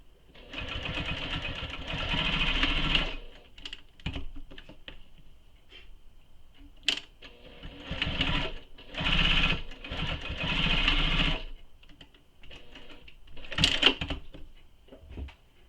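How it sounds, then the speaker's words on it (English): A sewing machine runs in several bursts, top stitching the long edges of a tote bag, its motor whirring steadily for a few seconds at a time between pauses and small clicks of fabric handling. "we will then top stitch both the long edges using the seam allowance given in the pattern"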